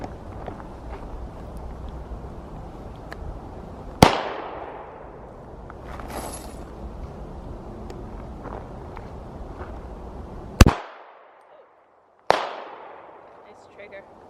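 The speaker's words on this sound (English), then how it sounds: "now I'm gonna start my warm-up with the Walther PPS, which I've never shot before" Three sharp, loud shots from a Walther PPS pistol ring out at about 4, 10.7 and 12.3 seconds. Each one decays quickly, and a steady background of outdoor range noise runs underneath.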